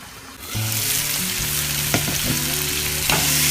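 Prawn thokku is stirred in a hot pan, loud continuous sizzling broken by scraping strokes of a spoon against the metal, close and steady throughout without speech.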